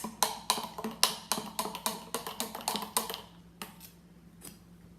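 A knife stirs freshly juiced juice from a Jack Lalanne Power Juicer Express, giving quick, rhythmic metallic clinks against the container, about a dozen steady taps that slow and thin out toward the end.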